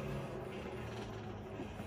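A tap cuts threads into a forged steel vise jaw, giving a continuous close grinding and creaking metal-on-metal sound with no talk.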